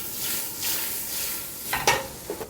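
Butter melting in a pan with reduced onion, a soft steady sizzle with a few sharper crackles and a stir near the end, close up and without talk.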